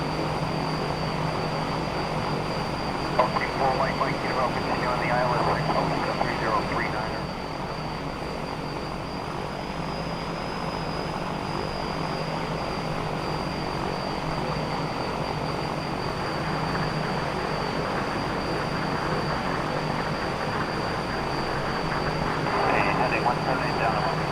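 A light propeller aircraft in the X-Plane flight simulator drones with a steady, continuous engine hum at cruising speed, while someone talks over it.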